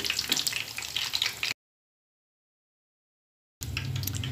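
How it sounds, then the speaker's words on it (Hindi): Potato snacks fry in hot oil with a loud, busy sizzle and crackle, cut off by a stretch of complete silence before the sizzling returns. "बस गोल्डन कलर आने तक इसको फ्राई करना है।"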